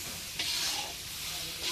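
Khichuri cooking in a large kadai, a soft steady sizzle with stirring scrapes that swell in two brief bursts, close by and alone with no talk.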